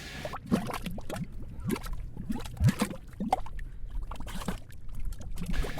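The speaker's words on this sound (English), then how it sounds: "gas going up through mud and water, and it creates these gurgling bloops" Gas bubbling up through mud and water in a mud pot, making continuous close gurgles and irregular wet bloops, some louder pops among softer glugging, with no voices.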